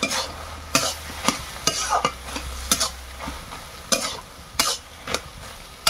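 Vegetables fry in a pan in a village kitchen while being stirred, with sharp, regular scrapes and clatters of the spoon over a steady sizzle, close and fairly loud.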